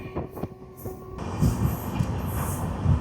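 The Mangalore–Rameswaram Express pulls into the small Pamban railway station just past the Pamban bridge. A steady, close rumble of rolling wagons builds after a quieter start, with faint rhythmic clacks and no talking.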